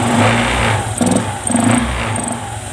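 A Honda Vario 150 cc scooter idles nearby, a loud uneven engine putter with a few short revving pulses and clicks, no talk.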